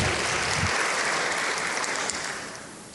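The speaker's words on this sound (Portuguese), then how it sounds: "uma salva de palmas" An audience applauds a state deputy at a formal lecture event with a Superior Court of Justice minister; the clapping is a broad, even roar that fades gradually toward the end, with no talk on top.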